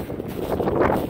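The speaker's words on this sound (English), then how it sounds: "A little bit windy" Low, rumbling wind buffeting the microphone, a steady blustery roar with no talking.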